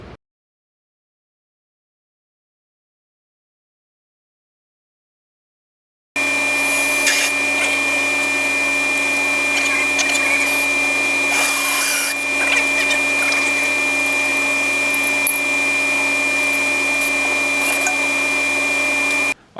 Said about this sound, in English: right there you saw me drilling a hole in the tank